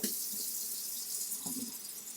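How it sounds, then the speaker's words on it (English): Running tap water pours steadily into a kitchen sink as hands are washed, a close, continuous hiss with brief splashes and no talking. "I'm going to wash my hands again and then I'm going to get started"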